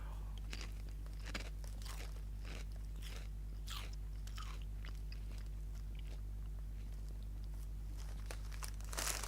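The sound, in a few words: chewing spicy chicken flavored chips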